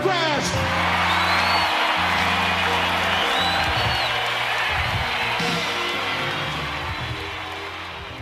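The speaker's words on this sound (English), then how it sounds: "And give a big round of applause to Mr." An audience applauds and cheers for a soul singer, a broad wash of clapping mixed with whoops and shouted voices that gradually fades toward the end.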